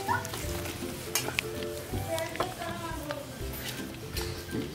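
Mustard seeds and peanuts crackle and sizzle softly in hot oil, with scattered pops and stirring, while people talk quietly in the background.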